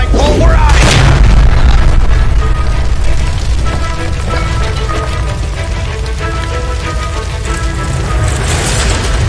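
A gas line explosion in the video game LA Noire: a heavy boom burst near the start, then a loud continuous roar and rumble of fire with debris and scattered crackles, with voices shouting over it.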